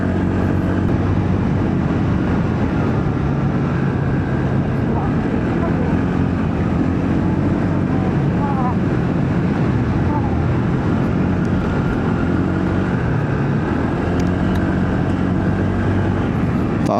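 Motorcycle engine labouring up a steep mountain road toward Mt. Kilang, a loud, continuous drone with heavy wind buffeting that never lets up, recorded close from the bike itself.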